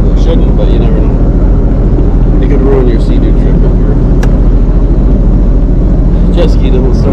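A Sea-Doo jet ski engine runs loud and steady at close range throughout, a constant dense roar with no pauses, on a July trip to Mackinac Island.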